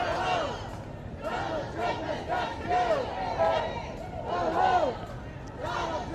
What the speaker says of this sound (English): We're going to see where this crowd goes.